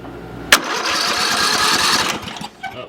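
A Murray riding mower's small engine cranks with a sharp click, then catches and runs with a loud, rough mechanical churn for about a second and a half before dropping off.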